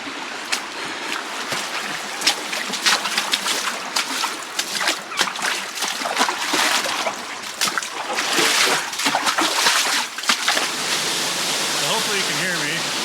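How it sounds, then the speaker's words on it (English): Water pours and splashes at the top of a waterfall in Zion's Subway canyon, a loud, continuous rushing roar with irregular splatters, and a person speaks over it. "I'm at the top of the waterfall."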